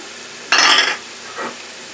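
Red onions and scallions hit a hot stir-fry pan with a sudden loud sizzle for about half a second, followed by a fainter, shorter hiss as more pieces drop in.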